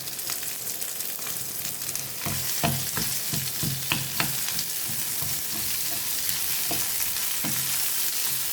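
Onions and chilies fry in sesame oil over a low flame, an even hiss of sizzling broken by a spoon scraping and tapping against the pan several times, close and steady, no one speaking.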